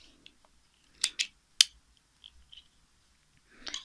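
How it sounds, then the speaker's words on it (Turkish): Scissors snipping yarn during crochet work on a zigzag fiber scrubber, a few short sharp cuts close by with quiet gaps between them and no talk. "İpimi burada kesiyorum."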